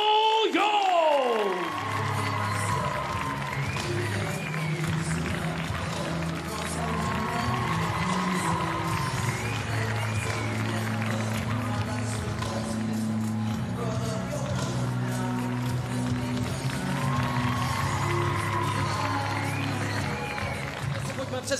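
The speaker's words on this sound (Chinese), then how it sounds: "我们掌声有请来自中国的刘勇。" A large arena crowd applauds and cheers steadily for a fighter's ring entrance at a kickboxing event in Prague, with loud music and an announcer's voice running through it.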